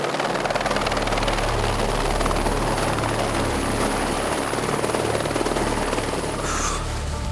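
A helicopter flies with wingsuiters aboard before a jump in Lauterbrunnen, its loud, steady rotor chop and engine whine constant throughout with no talk.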